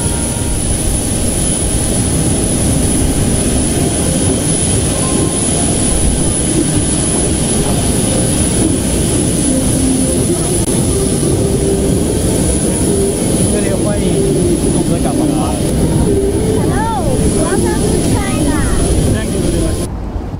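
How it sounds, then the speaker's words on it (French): A presidential aircraft lands at Beijing's international airport, its engines making a loud, continuous broadband roar that persists throughout, with faint voices under the din. "l'avion du président de la transition a atterri à l'aéroport international de Beijing"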